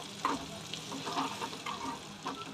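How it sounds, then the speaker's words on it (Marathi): Garlic and onion tempering in hot oil in a pan, a steady close sizzle with light stirring and scraping. "तडका छान होणार आहे, सुगंधही छान येतोय"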